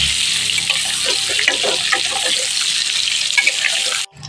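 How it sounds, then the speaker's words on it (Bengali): Eggplant pieces fry in a pan, a bright continuous sizzle with some watery crackle, steady throughout before cutting off abruptly near the end. "বেগুনটাকে আমি লাল লাল করে ভেজে নিই।"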